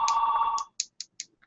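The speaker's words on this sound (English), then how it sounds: "Phone's ringing." A telephone ringing, a sustained electronic tone followed by several short, evenly spaced high chirps that taper off, close and alone.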